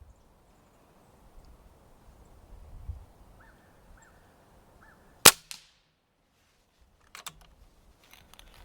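BroCock Sniper XR Magnum air rifle firing a Tremor dish-base hollow-point slug: one sharp, loud crack stands alone in a quiet room, followed by a few faint clicks and small handling knocks.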